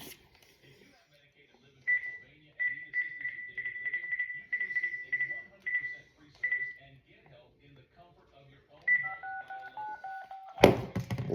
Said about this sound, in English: Dialed the wrong number first go.